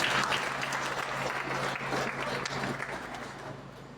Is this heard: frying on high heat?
no